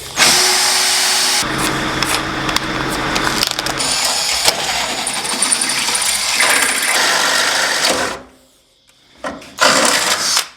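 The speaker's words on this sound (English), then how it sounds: "So I'm going to start with a smaller drill bit and then I'll just step it up." A power drill with a small bit grinds loudly and steadily into a vehicle tailgate for about eight seconds, stops, then gives one short final burst.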